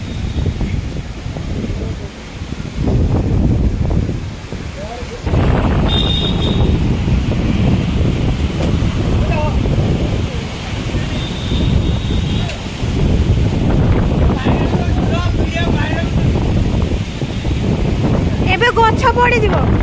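A strong outdoor wind blows continuously and loudly, roaring and buffeting against the microphone with gusty surges and brief lulls.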